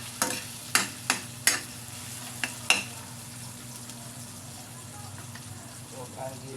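Onions fry in a pan with a low, continuous sizzle, broken early on by several sharp clacks of a utensil against the pan, then settling into quieter frying under faint background murmurs.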